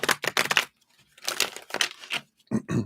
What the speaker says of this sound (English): Let me shuffle these one more time